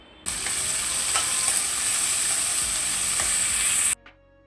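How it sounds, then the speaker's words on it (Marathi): Onion softening in hot oil for a dry chicken masala cooked without water, giving a steady, loud sizzle that starts abruptly and holds evenly for several seconds before cutting off, with a couple of faint utensil clicks inside it. "आता आपण त्याच्यामध्ये कांदा टाकून घेऊ आणि तो पण नरम व्हायला द्यायचा आहे कांदा तेलामध्ये"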